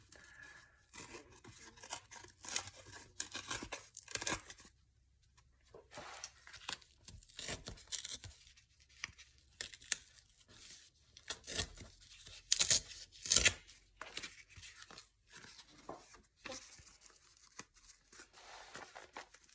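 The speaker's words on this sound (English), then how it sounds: "this corrugate cardboard and I love using that stuff. I do like that. Let's just try. It's hard to tear." Corrugated cardboard torn by hand in repeated short ripping bursts with pauses between, close and fairly quiet, with no talking.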